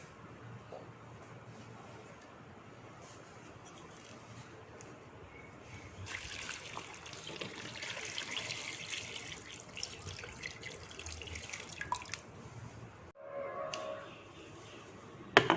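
Water is poured onto mutton mixed with spices in a pot for pulao, a steady quiet splashing pour that swells mid-way and then stops, with light kitchen clatter around it.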